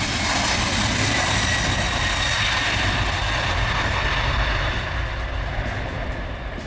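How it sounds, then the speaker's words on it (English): A Boeing 767-400ER passenger jet produces a loud, continuous engine roar that holds steady throughout, broad and rumbling with no other sounds above it. "Boeing 767-400ER, the largest version of the 767 series"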